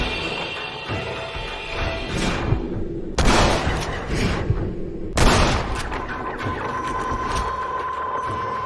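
Gunfire in the Red Dead Redemption Undead Nightmare video game, heavy booming shots and bursts of fire, two especially loud blasts among busy combat noise.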